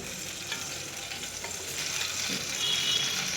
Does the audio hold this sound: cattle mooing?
no